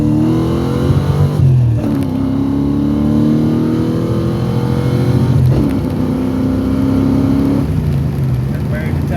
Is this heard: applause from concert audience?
no